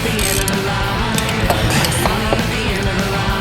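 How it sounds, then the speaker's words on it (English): A ratchet wrench clicks in quick, uneven bursts while removing the alternator from a 2007 GMC Envoy. The metallic clicks sit close but partly buried under steady, loud music. "Should be using a little ratchet right here, huh?"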